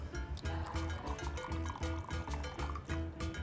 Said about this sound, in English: over here, we're going to be putting 2 tablespoons of apple cider vinegar